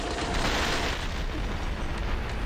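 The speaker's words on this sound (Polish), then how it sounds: "Ale on fajnie wybucha." Explosion in the video game Killing Floor 2, a loud, sustained roaring blast with rumbling low end that fills the whole moment without letting up.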